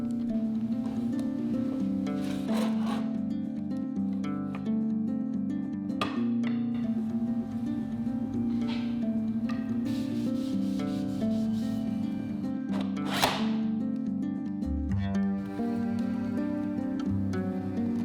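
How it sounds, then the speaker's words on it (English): A wide belt sander sands wood for an outdoor table with a continuous, steady rubbing drone and a low machine hum running throughout, with a few brief scraping swells and no speech. "this is called a wide belt sander and it will sand everything to be silky smooth"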